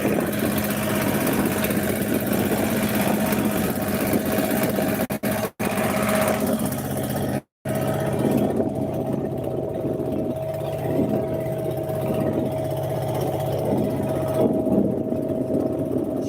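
A boat engine drones steadily and close by on the Karnaphuli River at Patenga, Chittagong, a constant low mechanical hum that runs throughout with only a couple of brief dropouts.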